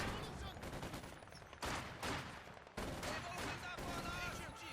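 Sustained machine gun bursts and rifle fire during a Company of Heroes 2 1v1 battle, with dense overlapping shots filling the clip at steady loudness and abrupt surges at each new volley, with no voice over them.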